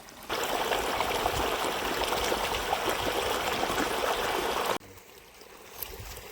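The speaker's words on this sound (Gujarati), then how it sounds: "જો ભાઈ પાણી આવી ગયું" Steady rushing water pours continuously from an irrigation pipe in a farm garden, loud and close, then cuts off abruptly to quieter outdoor background near the end.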